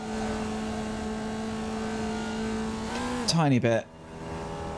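A Formula Vee race car at Summit Point circuit drones steadily through its gears, then sweeps past close by with a sharp pitch drop before fading away, with brief speech near the start.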